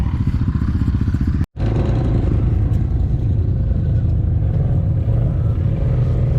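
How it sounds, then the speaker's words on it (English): A loud, close engine roars steadily with a rough, throaty rumble, cutting out for an instant before continuing just as strongly. "He's revving up"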